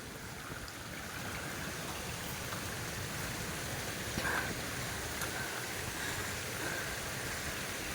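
A small creek flowing on a sloped beachfront property, a steady, soft rushing and trickling of water that holds evenly throughout, fairly faint and with no voices.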